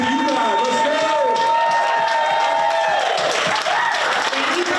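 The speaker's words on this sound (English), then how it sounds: "So give a round of applause for you guys." Audience applause at a candidates' forum hosted by a senior action council, a loud steady clapping wash with voices and cheering mixed over it throughout.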